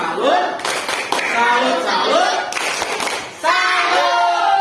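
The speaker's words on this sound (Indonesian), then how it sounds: "tepuk tangan untuk kita semua" Applause from a primary-school class of children, a burst of clapping hands mixed with young voices chattering and calling out over it, fairly close and lively throughout.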